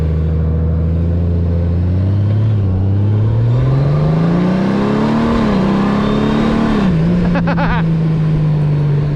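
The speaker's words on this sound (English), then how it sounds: "who needs other bikes to ride for free when I got my Goldwing right here?" Honda Goldwing motorcycle engine heard while riding on a trail, a steady loud drone whose pitch rises and dips as the rider accelerates and shifts, continuous throughout.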